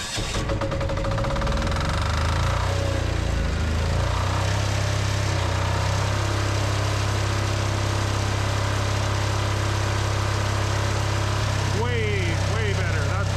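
An off-grid engine cranks, catches and settles into a loud steady running drone that rises in pitch as it revs to drive an air compressor, with a person briefly speaking over it near the end.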